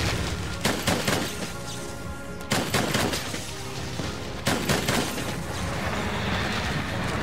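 Rapid bursts of gunfire in Monster Hunter World rattle continuously, with a few heavier volleys standing out over a dense, noisy background.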